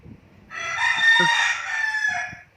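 A small ornamental bantam rooster kept for looks crows once, a loud, close, drawn-out call lasting about two seconds, with a few faint clucks around it.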